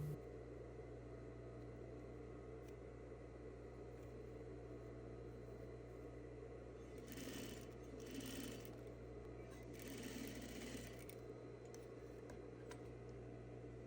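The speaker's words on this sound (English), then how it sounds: "When you sew the elastic, try not to catch the sleeve fabric." A sewing machine stitches elastic into the sleeve of a crop top, giving a steady, continuous mechanical whir with a constant low hum and brief brighter bursts of faster stitching partway through, with no talk.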